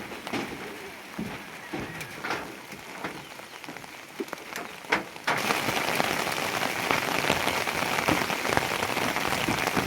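Rain falling steadily on a surface near a tribal house, a soft patter that swells abruptly into a heavier, denser downpour halfway through, with scattered louder drops and no talk.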